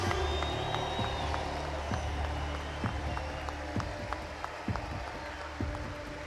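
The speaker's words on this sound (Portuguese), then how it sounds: "Eu acho que eles merecem mais aplausos, mais forte, mais forte." Large crowd at an outdoor political demonstration claps steadily in a broad, continuous wash of applause, with scattered louder claps and cheers rising over a constant murmur throughout.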